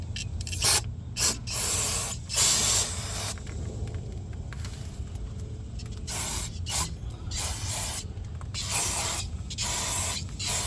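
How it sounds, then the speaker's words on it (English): Brake cleaner sprayed onto a 1997 Honda Civic crankshaft in a series of hissing aerosol bursts, several short and some longer, close and fairly loud with pauses between them and no talking. "I'm gonna go ahead and clean this crankshaft with brake cleaner so I can start reassembling everything back together."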